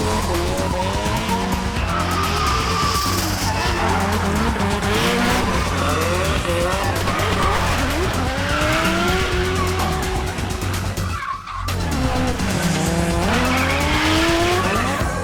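Drift cars slide with loud tire squeal and roaring, revving engines at an off-road 4WD event in Japan, with continuous overlapping skids and one brief lull before the noise returns close by.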